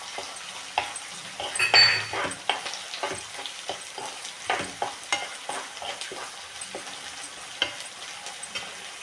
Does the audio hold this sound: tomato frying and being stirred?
yes